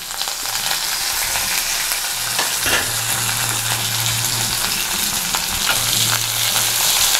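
Green chillies, mustard seeds and cumin frying in cooking oil in a pan: a loud, close, continuous sizzle with popping crackles throughout and a low hum underneath.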